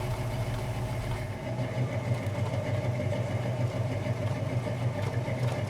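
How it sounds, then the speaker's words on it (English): The V8 exhaust of a 1966 Ford Mustang GT idles steadily nearby, a low, even rumble with a faint lope, continuous and unchanging throughout. "Let's go listen to that awesome exhaust note."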